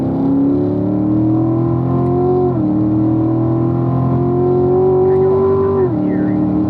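A car on a racetrack accelerates hard with the throttle floored, its engine a loud steady drone that climbs in pitch, drops with a gear change, then climbs again and shifts once more; a voice speaks briefly.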